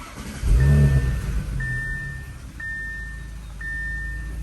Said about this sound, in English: let's go ahead and start the car up, make sure everything's good